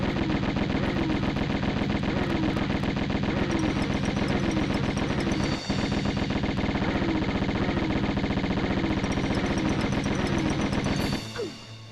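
Rapid Uzi fire in the Tomb Raider game, sustained and loud for about eleven seconds with a steady rattling rhythm, one brief dip midway, then cutting out near the end.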